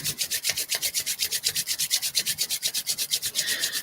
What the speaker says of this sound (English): slowly rubbing the hands together. You're rubbing the palms together until they get nice and warm.